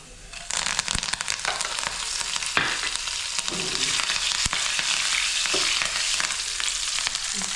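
Cumin seeds and curry leaves sizzle loudly and steadily in hot oil for a tangy eggplant, cucumber and tomato chutney, a dense continuous crackle with a few sharp pops and no talking.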